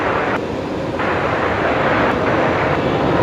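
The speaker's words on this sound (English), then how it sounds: "Great reverse thrust action." A Qantas jet lands at night on Brisbane's runway 19 right, its reverse thrust a loud, steady, broad roar that stays close and unbroken for the few seconds heard, with no talking.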